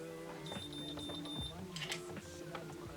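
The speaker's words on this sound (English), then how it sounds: "Wait for the 3 beeps." A series of high, thin electronic beeps, about eight quick pulses, from a BaByliss curling iron signaling it is ready, sounds faintly over a low hum and soft rustling handling noise.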